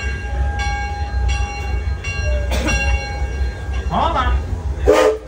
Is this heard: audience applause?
no